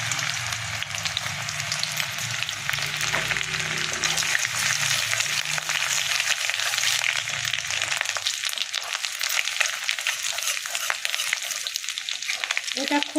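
Chopped garlic and ginger fry in hot oil for chili chicken, giving a steady, loud sizzle with stirring scrapes that continues without a break.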